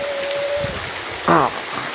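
Steady rain hissing throughout, with a brief voice-like sound rising over it near the end.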